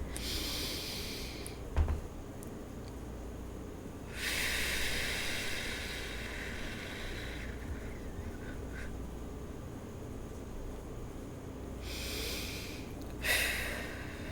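A person draws a slow, deep breath, an airy hiss swelling in two long surges with a brief sharp snort near the start, close to the listener and with nothing else sounding.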